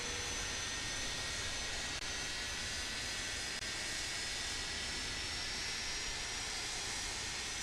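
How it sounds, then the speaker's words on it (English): The jet engine of an MD-80 in Microsoft Flight Simulator runs after start, a steady, close whooshing roar with a thin high whine that holds even and unbroken throughout. "Listen to that engine."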